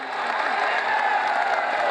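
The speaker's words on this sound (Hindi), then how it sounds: "आप मेरे लिए जोरदार ताली बजाएं।" An audience at a Hindi-Urdu mushaira poetry recital breaks into loud, dense applause, a steady close wash of clapping with no pause.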